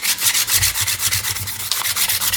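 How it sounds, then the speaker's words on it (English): Fine sandpaper rubbed back and forth over PVC pipe, a rapid, steady, rhythmic scratching of about ten strokes per second, close and loud, with no talking. "Take a piece of fine sanding paper"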